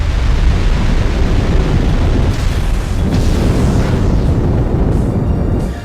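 Tectonic Rage, a ground attack in a Pokémon video game battle, erupts as a loud, continuous rumbling explosion with crackling bursts that holds for several seconds.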